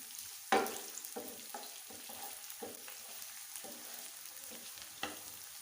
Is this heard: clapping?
no